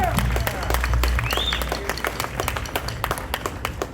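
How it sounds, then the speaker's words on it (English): Audience applause at a Tartan Day gathering in Franklin, North Carolina, a moderate round of clapping that thins into scattered claps, with brief tonal sounds and some background voices. "Let's have a round of applause for Jim."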